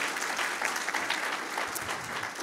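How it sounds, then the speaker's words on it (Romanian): Clapping from a small group fills the room, dense and steady, fading slightly toward the end. "Acum aplauze,"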